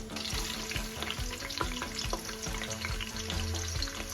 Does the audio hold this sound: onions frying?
yes